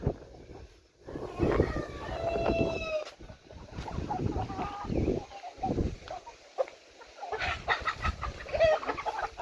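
Chickens and roosters on a poultry farm cluck and call in irregular bursts, a busy flock close by with scattered sharp calls and brief pauses, light wind in the background.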